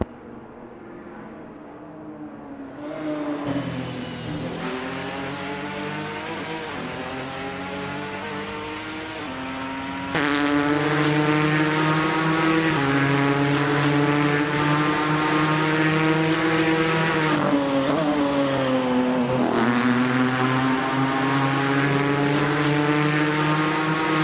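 A touring car engine in the 939 Corse Touring Car Championship screams through a fast lap of Brands Hatch in a racing sim, its pitch climbing and dropping through gear changes and growing louder partway through, with no talking.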